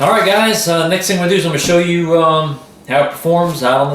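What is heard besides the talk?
No everyday noise stands out behind the speech.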